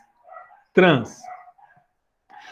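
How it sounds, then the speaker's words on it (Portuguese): Small dogs, about five of them, bark outside; one loud, sharp bark rings out clearly, with a person's voice talking briefly before and after it. "Olha, os cachorros estão lá, latindo. Tem uns 5 cachorrinhos."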